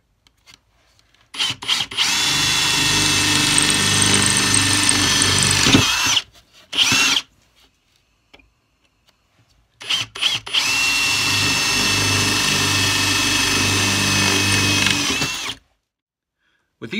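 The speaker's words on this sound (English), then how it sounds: "once I drill the hole here" A power drill whirs loudly through the wood of a cigar box guitar in two long bursts, a short blip between them, with quiet pauses around them.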